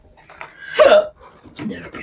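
A single sharp hiccup bursts out mid-clip, loud and close, amid soft vocal noises and the murmur of a person speaking nearby.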